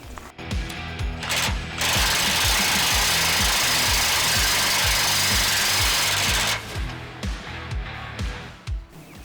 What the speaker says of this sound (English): So let's torque this down and finish this up.